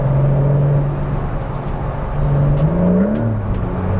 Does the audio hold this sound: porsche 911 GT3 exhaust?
yes